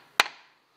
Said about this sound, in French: Je vais planter un clou là.